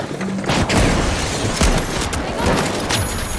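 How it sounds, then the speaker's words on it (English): A rocket fires and bursts in a shooter video game, giving a loud dense spread of booming blasts and crackling impacts over a few seconds. "Sending a rocket."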